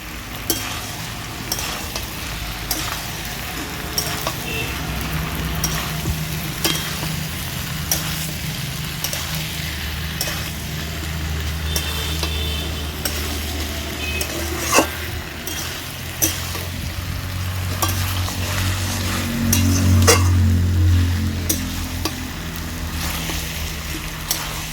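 Mixed monsoon vegetable curry being stirred in a pan after ginger and sugar are added: continuous sizzling with repeated sharp spatula scrapes and clinks, and a low rumble swelling near the end.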